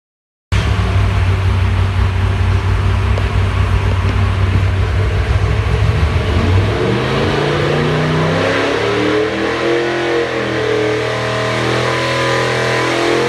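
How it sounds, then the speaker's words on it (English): A 449ci Ford FE V8 with Trick Flow heads roars loudly on a dyno, recorded through glass, holding a steady heavy drone before pitch shifts and the engine climbs through revs. "and you can really hear the engine run."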